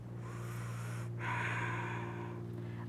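Deep, slow yoga breathing sounds close and soft, with one long breath followed by a stronger exhale, over a steady low hum.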